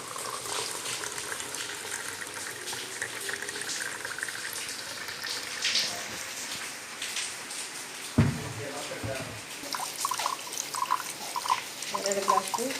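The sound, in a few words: straining and pouring amla and mint juice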